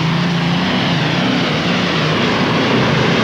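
A pulling tractor at a 1997 European tractor pulling event in Bernay, France, roars at full throttle in a loud, steady, unbroken engine drone that stays close and constant throughout.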